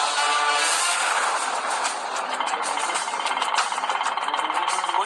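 A vehicle engine runs steadily as it drives, a constant close rumble with a faint rhythmic knock, holding level throughout with no clear talk over it.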